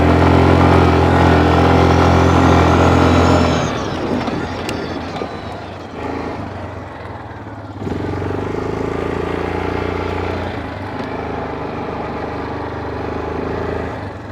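Yamaha Kodiak 450 ATV engine at half throttle, a steady loud drone close by that drops in pitch and level as the machine passes, then holds a lower hum.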